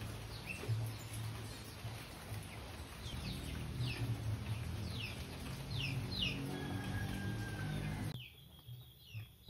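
Zebra finch chicks and other small birds in a rain-soaked aviary give repeated high chirps and short calls over a steady wash of rain, fairly close, until the sound cuts off near the end.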